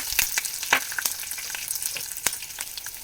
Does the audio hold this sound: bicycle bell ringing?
no